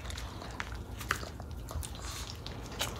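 A dog chews on small food scraps, giving faint, close, irregular wet bites and crunches against a quiet indoor background.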